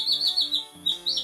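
A 3D printed plastic warbler whistle blown loudly and close, producing a shrill, rapidly wavering warble in short bursts with brief breaks.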